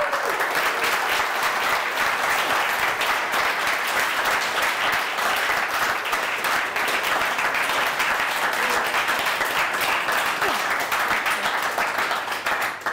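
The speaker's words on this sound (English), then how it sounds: "can we give her a round of applause?" A seated audience at a talk by Emily Nuttall breaks into sustained, even applause, a dense wash of clapping that carries on loudly for over ten seconds before starting to thin.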